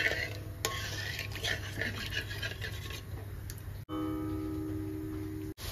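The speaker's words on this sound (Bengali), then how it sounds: "সমস্ত মশলা ঝোলের সাথে খুব ভালো করে নাড়িয়ে নিলাম" Spices are stirred into a tilapia curry sauce in a pan over a raised gas flame, giving soft scraping and rubbing sounds with light ticks over a constant low background hum.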